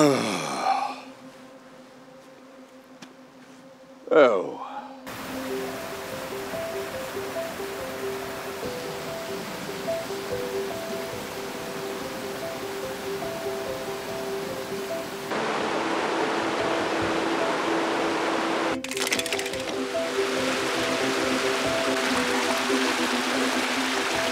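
A mountain stream in the Alps rushes over stones as a steady, close hiss of flowing water. The sound grows louder and fuller midway through, with a few faint other sounds over it.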